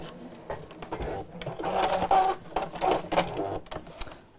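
A sewing machine stitches a seam across a quilted fabric pouch, using the presser foot edge as the seam allowance. Its soft rapid whirring comes in short uneven bursts, close by and fairly quiet.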